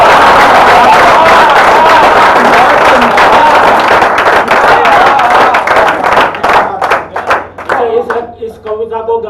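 Audience applause at a Hindi comic poetry gathering, loud sustained clapping from a large crowd that thins into scattered individual claps near the end, with a voice speaking over the tail.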